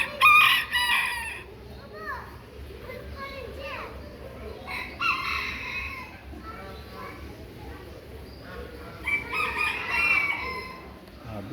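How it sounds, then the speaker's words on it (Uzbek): Japanese bantam hens and roosters at a poultry display, with repeated crowing and clucking rising in bursts over a busy background; people talk nearby throughout. "Yana yapon tovuqchalari."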